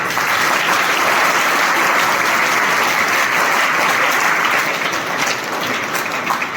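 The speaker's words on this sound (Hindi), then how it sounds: "इनके लिए जोरदार ताली।" A large audience claps loudly and steadily throughout, dense continuous applause at a motivational direct-selling talk, with no voices rising above it.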